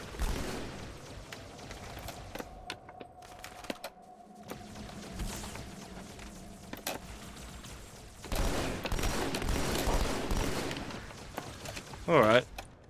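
A turret fires in Halo 2 while Flood enemies are fought, giving bursts of game gunfire and explosions mixed with other in-game sound effects, and people talk over much of it.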